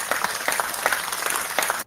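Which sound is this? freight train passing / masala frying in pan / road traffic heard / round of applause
round of applause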